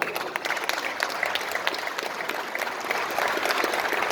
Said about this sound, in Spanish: Despidamos a este grupo de jóvenes de aquí de la localidad con un fuerte y cálido aplauso